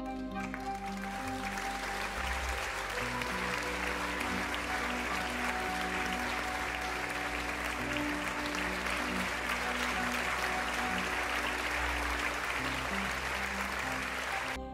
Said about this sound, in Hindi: तो एक बार फिर से गधे के लिए जोरदार तालियां।